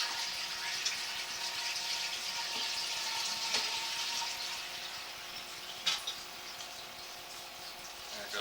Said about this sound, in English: I'm going to flush the toilet and see if I can wash some of this toilet paper out of the way for us.